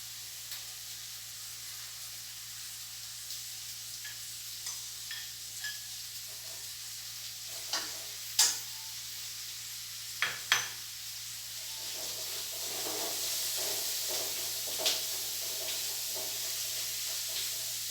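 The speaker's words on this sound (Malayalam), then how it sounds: "ഇത് നമുക്ക് സവോള അരിഞ്ഞ് ഇട്ട് കൊടുക്കാം" Chopped onions sizzle in oil in a pan for a chicken curry, a steady broad hiss with scattered scraping and clacking stirring knocks, a couple of sharper clinks midway, with no talking.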